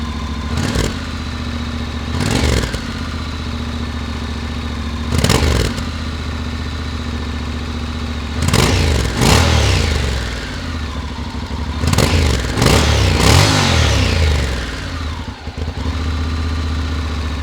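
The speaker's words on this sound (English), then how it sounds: "if you want to know how this 2026 Honda NC750X DCT sounds," A 2026 Honda NC750X DCT motorcycle idles steadily while its engine is blipped in several throttle revs, some single and some in quick pairs, each rising and falling back to idle with no talk.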